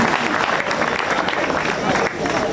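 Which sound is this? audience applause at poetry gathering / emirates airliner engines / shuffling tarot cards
audience applause at poetry gathering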